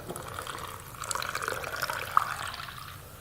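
Coffee poured from a December Dripper into a cup, a steady close liquid trickle and splash running throughout with a brief brighter drip near the end.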